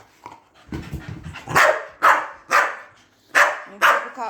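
Dogs bark and yap in a lively indoor burst: whimpers and panting lead into a run of five sharp, loud, close barks spaced about half a second apart.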